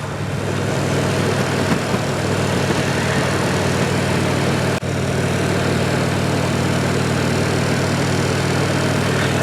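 A motorcycle engine drones steadily up close while riding a two-lane road near a semi truck, a continuous loud hum with wind rush and no distinct revving peaks.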